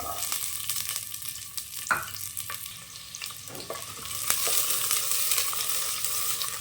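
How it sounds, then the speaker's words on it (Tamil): Onions sauté in ghee with cardamom and fennel, making a continuous close-up sizzle with occasional stirring scrapes, growing louder and hissier toward the end. "வெங்காயம் நல்லா வதங்கட்டும்"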